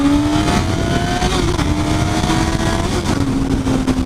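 A Honda Hornet motorcycle accelerates hard with a loud, steady engine roar that rises in pitch and continues without a break, heard close and alone.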